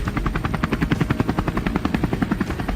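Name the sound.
helicopter flying over plains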